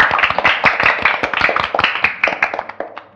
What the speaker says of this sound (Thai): ปรบมือให้ตัวเองหน่อย